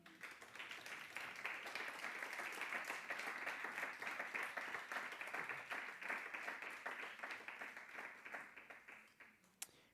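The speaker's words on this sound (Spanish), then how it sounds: "Denle un aplauso al Señor." Church congregation applauding throughout a Sunday service, a dense, steady wash of many hands clapping at close range that gradually thins toward the end.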